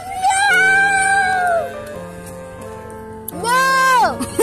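Two long, drawn-out meows, loud and close, with a wavering pitch and a short pause between them.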